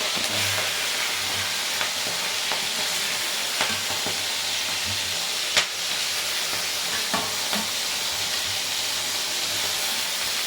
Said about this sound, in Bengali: এবার আমি এর মধ্যে ভেজে নেব চিংড়ি মাছগুলো।